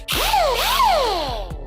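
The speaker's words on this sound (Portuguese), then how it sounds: "Eu vou lixar com essa lixadeira aqui, a gente chama de grinder" Air-powered grinder sander running off a compressor, used while laminating a surfboard with epoxy resin, spins up with a whining pitch that rises, dips and rises again before winding down, loud and close with a hissing airy edge.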